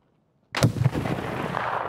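Gunfire in the video game Escape From Tarkov, a sudden loud burst of shots from silence followed by a rumbling echo that lingers and fades slowly.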